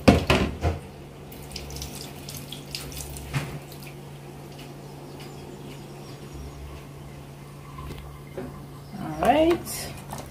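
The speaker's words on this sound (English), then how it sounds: "Then you add the liquid." Liquid pours into a stew pot of lamb on the stove, a splashing stream at the start and again near the end over a steady low hum, with a voice briefly heard.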